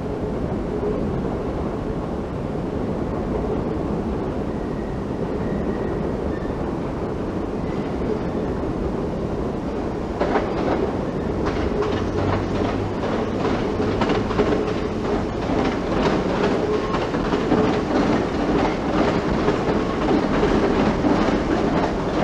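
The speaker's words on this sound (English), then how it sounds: "sounds that come up from the railway tracks, the trains, as well as the other sounds, like the points changing" Trains rumble along London railway tracks between high walls, a steady loud roar with rhythmic clickety-clack building in the second half and occasional metallic clunks from points changing, no voices.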